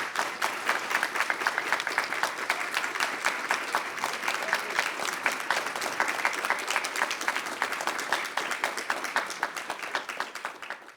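An audience breaks into sustained applause to welcome Maureen Staub, the 2025 Volunteer of the Year. Many hands clap densely and evenly for about eleven seconds with no talking.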